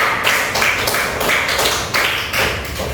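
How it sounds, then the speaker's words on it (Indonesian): Classroom students clap their hands together for a classmate, a loud, close burst of applause with a few uneven swells. "tepuk tangan buat Mayada"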